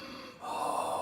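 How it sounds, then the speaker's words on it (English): Ujjayi yoga breathing, a slow breath drawn through a constricted throat with the mouth closed, heard as a single close, soft hissing rush that swells midway and holds steady. "the basics of the breathing is Ujjayi breath. It's a constriction of the throat,"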